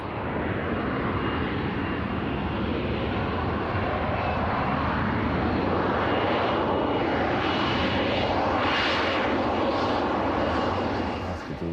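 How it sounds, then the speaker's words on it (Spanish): A Harrier jump jet's engine roars continuously, a loud, broad jet rush with a slowly shifting whine that swells toward the end, with no voices over it. "Si apuntan a popa, el Harrier va hacia adelante."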